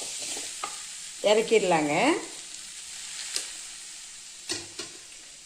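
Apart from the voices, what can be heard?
stirring guava chutney ingredients in a frying pan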